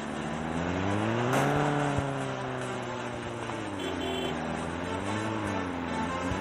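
A car engine in the video game Go To Town 2 hums steadily, its pitch rising and falling as the vehicle accelerates and eases off, close and continuous with a brief bump partway through.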